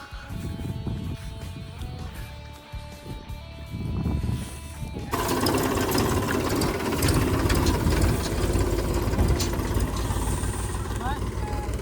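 A farm tractor's engine runs with a steady, broadband rumble that grows louder and fuller partway through, while voices talk over it.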